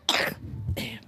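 Two short, harsh coughs from a young child, close by, separated by a brief pause with a low murmur between them.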